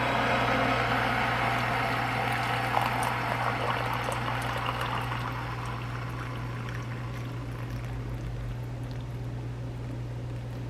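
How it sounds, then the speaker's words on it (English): Steady hiss and gentle bubbling of water heating in a kettle, continuous and close, with a low hum underneath and no voices. "I don't let my water get to maximum boiling"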